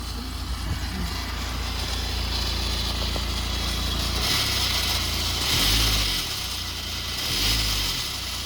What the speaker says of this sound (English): Go and give it a little rev, slight rev.